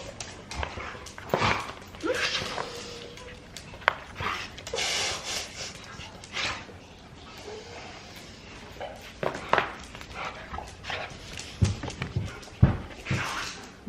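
Dogs whimper and let out short yips and barks in a home, with intermittent scuffling footsteps and panting, sounding close but fairly quiet and irregular.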